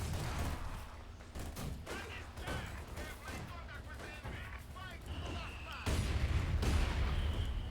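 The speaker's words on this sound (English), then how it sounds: "Man, oh man, this is just a mortar battle." Mortar and artillery fire rumbles through a Company of Heroes 2 battle on Moscow Outskirts, with repeated booms and crackling blasts under a commentator's steady talk.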